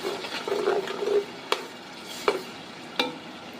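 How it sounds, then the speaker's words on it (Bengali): Ginger and garlic stirred in a frying pan, with a soft scraping rustle for the first second, then three sharp, separate knocks of a spoon against the pan at steady intervals. "প্রথমেই আদা রসুনটা ভালোভাবে নাড়তে হবে।"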